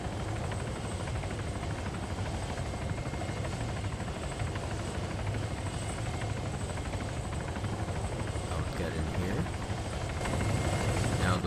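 A video game helicopter sounds as a steady, continuous rotor and engine drone, loud and close, holding constant throughout and swelling slightly near the end.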